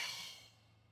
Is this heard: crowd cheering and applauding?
no